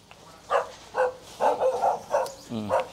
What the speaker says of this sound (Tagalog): Tumatawol yung aso eh.